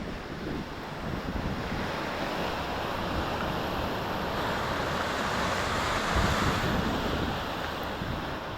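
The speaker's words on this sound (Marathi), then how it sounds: "पाण्याचा प्रवाह बघा किती आहे तो।" A flooded Konkan river near Ratnagiri, swollen by an overflowing dam upstream, rushes past as a loud, steady, broadband roar of turbulent water with some wind buffeting on the microphone.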